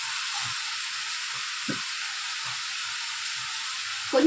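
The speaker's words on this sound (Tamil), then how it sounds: "வெங்காயம் நல்லா வதங்கட்டும்" Onions and tomatoes with ginger-garlic paste and turmeric fry in a pan, giving a steady close hiss and sizzle with a few soft stirring knocks, no voices.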